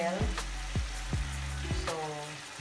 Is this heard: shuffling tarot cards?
no